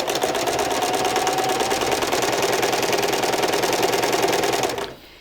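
A sewing machine runs at a steady, fast, rattling pace while stitching hand-woven fabric, then stops abruptly near the end.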